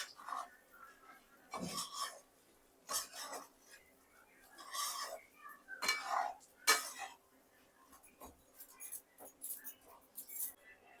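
Ground chilli, cumin and coriander powders are mixed with a spoon over potatoes in a pan for samosa filling, giving intermittent close scraping and clinking strokes, fairly faint.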